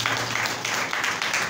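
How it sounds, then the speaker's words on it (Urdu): A church congregation breaks into loud applause during a sermon, a dense, continuous patter of many hands clapping close by. "زوردار تالیاں خدا ان کے لیے ہے"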